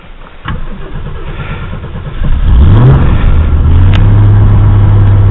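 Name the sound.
Ford Mustang engine starting and revving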